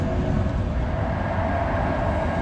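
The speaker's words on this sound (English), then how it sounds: "Going the other way here is a blue line tram." A Sheffield Supertram blue line tram passes with a loud, steady rail rumble and a continuous low roar throughout.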